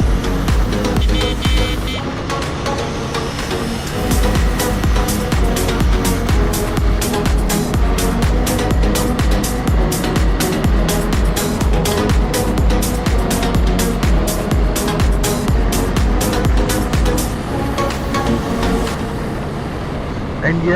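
A KTM motorbike riding through Hyderabad city traffic early on a Friday morning, a loud, steady roar of engine and wind noise throughout, with passing vehicles blended in.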